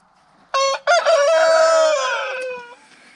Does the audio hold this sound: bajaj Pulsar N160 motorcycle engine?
no